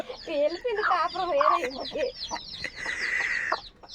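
Hen clucking with her chicks, a close run of throaty clucks and warbling calls, followed by a fainter stretch of chirps and background noise.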